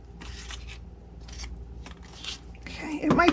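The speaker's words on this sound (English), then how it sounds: "then I just flipped it over and trimmed off this part" Scissors trim paper for a decorated gift box in a few crisp snipping bursts, close and moderately quiet, with a voice speaking faintly over part of it.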